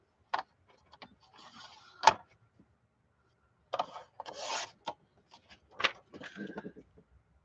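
Paper being trimmed for a lapbook: a few short, close rubbing and snipping cuts separated by quiet pauses, soft and intermittent, with no talk.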